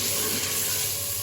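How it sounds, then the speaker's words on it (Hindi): Tomatoes sizzle and fry in a pan with chicken for a chicken daal mash dish, a steady close hiss holding evenly throughout with no talking. "अब हम इसमें डालेंगे टमाटर, जो कि 2 अदद लिए थे मैंने। बिस्मिल्लाहिर्रहमानिर्रहीम। इनको भी अच्छी तरह से हम इसमें फ्राई करेंगे"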